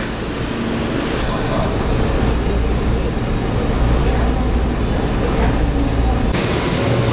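A Kobe Municipal Subway train running underground, a loud continuous rumbling roar of wheels and motors with a few brief higher squeals and hiss, heard close throughout.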